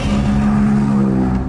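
A car engine idling smoothly at low RPM in second gear, close by and steady, with an even low hum that holds without stutter or misfire.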